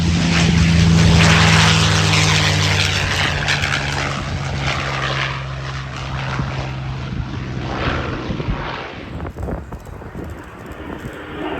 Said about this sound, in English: a very short takeoff for this aircraft, which was adapted from the civilian Cessna 160.